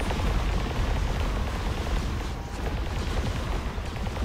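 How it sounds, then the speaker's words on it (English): Automated turrets blaze away continuously in a custom Call of Duty: World at War zombies map, a dense, steady roar of rapid gunfire and booming blasts with no pauses, loud and close throughout. "Just stand back and enjoy while all the turrets are on"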